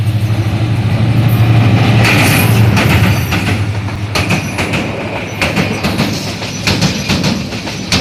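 A train rolls past at close range during the Eid holiday rush, a loud continuous rumble with a low hum and rhythmic clickety-clack of wheels over rail joints.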